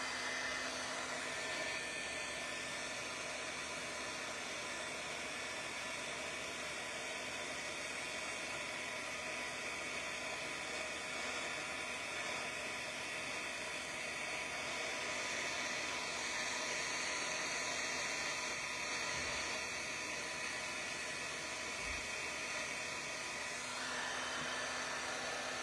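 A heat tool melts embossing powder in a crafting session, a steady, loud blowing whir that runs unbroken throughout with no speech.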